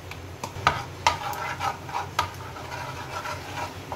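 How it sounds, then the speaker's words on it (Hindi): Turmeric stirred and roasting in a pan with browned ginger and chillies, a spoon scraping and tapping in irregular strokes over a soft, steady background sizzle. "इसको भून लेंगे हल्दी के साथ थोड़ा सा"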